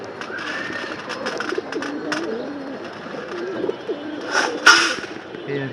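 Pigeons kept as a flying flock coo in soft, low repeated phrases through the middle range, with a brief louder burst near the end amid faint outdoor background.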